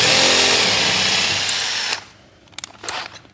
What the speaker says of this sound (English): So I'm just going to put a screw through somewhere on this plate here, slight angle downwards.